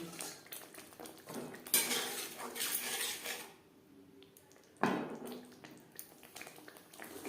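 Tender green peas are tipped into masala frying in a pan, with close metallic clatter of a spoon against the pan, a short quiet gap, then a sharp clank and more scraping.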